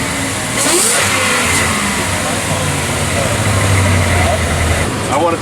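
A car engine revs loudly and steadily through an X-Force full catback exhaust, holding a deep, continuous roar for several seconds, with voices audible underneath.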